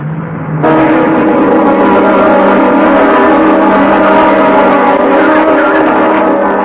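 Car driving behind a bus, a radio drama sound effect: a loud, steady engine hum that rises abruptly after a brief softer opening, then holds an even drone to the end.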